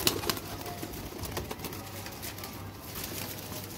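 A teddy pigeon coos softly in a low, repeating pulse under faint room noise, with a few light rustles and scrapes nearby.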